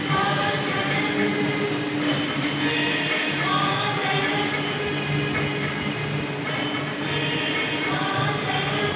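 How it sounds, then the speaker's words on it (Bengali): Riding a Kolkata metro train out of Dum Dum airport station, a continuous loud interior rumble with a steady low hum and faint wheel clatter, with no voices. "আজকে আমাদের দমদম বিমানবন্দর থেকে মেট্রোতে উঠবো ফার্স্ট"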